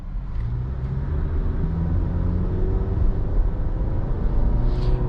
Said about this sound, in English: for this engine though, you do have to like rev it to get this car to move.